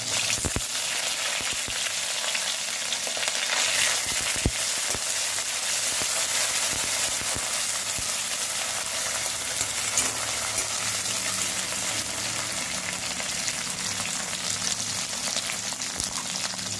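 Green chilies and curry leaves sizzle in hot oil with mustard seeds and cumin, a steady loud crackling fry with scattered sharp pops, continuous throughout with no talk.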